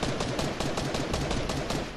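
Rapid automatic gunfire in the video game Fortnite, a fast, even burst of sharp shots rattling continuously for about two seconds, fairly close and loud with no talk over it.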